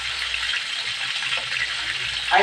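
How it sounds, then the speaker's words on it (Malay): Water is poured into a hot pan of stir-fried chicken and aromatics to make a soup broth, giving a steady, close rushing gush with a brief splash near the end. "Okay, kita masuk air."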